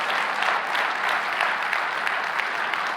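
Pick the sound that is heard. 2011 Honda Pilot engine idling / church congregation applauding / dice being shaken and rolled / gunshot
church congregation applauding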